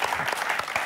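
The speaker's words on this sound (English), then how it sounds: "I'll clap for that." A short burst of clapping, brisk and close, lasting under a second.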